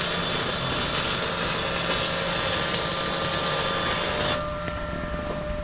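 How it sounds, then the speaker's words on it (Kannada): Steady mechanical whir of the wire feed wheel turning inside an ARCCAPTAIN MIG200 multi-process welder, a continuous close hum with faint tonal whine that drops slightly near the end, no talk. "ಈ ವೀಲು ತಿರುಗ್ತಾ ಇದೆ."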